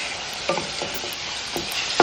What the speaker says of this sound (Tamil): ஒரு தக்காளியை நறுக்கி போட்டிருக்கேன். தக்காளி நல்லா வதங்கட்டும்.